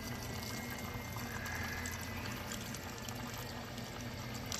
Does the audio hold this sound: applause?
no